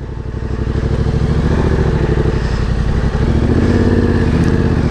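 A Yamaha Tenere 700 adventure motorcycle rides over dirt, its engine a loud, close, steady throbbing drone that rises slightly partway through, with no talking.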